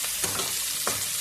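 Spice paste sautéing in a pan for a home lunch, a soft steady sizzle with a couple of brief scraping stirs, close by and with no talking.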